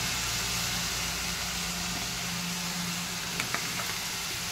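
Cauliflower frying with tomato in a hot pan gives a steady hiss of sizzling throughout, fairly quiet and even, with a couple of small clicks near the end.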